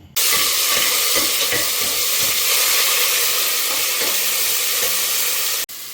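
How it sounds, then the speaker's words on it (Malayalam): Onion and ginger sizzle loudly in a hot pan as they sauté for a curry, a steady bright frying hiss with stirring scrapes and soft knocks, close up and uninterrupted until it cuts off at the end. "അപ്പോൾ നമുക്കിനി ഉള്ളിയും ഇഞ്ചിയും അതെല്ലാം കൂടെ അങ്ങോട്ട് ഇട്ട് കൊടുത്തിട്ട് അത് അതിൻ്റെ ആ പച്ചമണം മാറുന്നത് വരെ ഒന്ന് വഴറ്റി കൊടുക്കാം"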